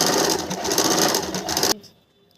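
A sewing machine runs a stitch through thick kurti fabric, a loud, dense, rapid mechanical chatter up close that cuts off abruptly, leaving near silence.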